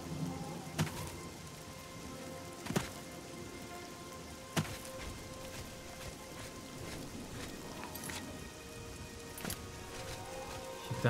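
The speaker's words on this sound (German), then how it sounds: "Natürlich muss es wieder regnen." Steady rain falls in The Elder Scrolls IV: Oblivion, a soft, continuous wash of drops with a few sharper, brief knocks scattered through it, all heard at a fairly low level with no talking.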